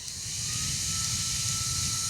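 A small fan hums with a steady whooshing whir and a faint motor tone, close up and constant.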